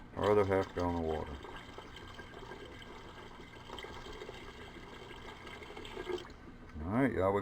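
Water poured from a jug into a wine-making container over dissolving yeast for homemade wine, a steady close splashing fill under brief talk at the start and end.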